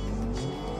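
A car with a 3000 cc twin-turbo engine accelerating hard, a loud close engine roar holding steady through the short burst.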